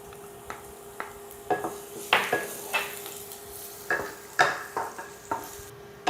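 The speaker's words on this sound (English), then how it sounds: "Saute on medium heat until the edges turn golden brown" Garlic sautéing in oil over medium heat, soft sizzling under a steady faint hum, with a spatula scraping and tapping the pan in irregular strokes.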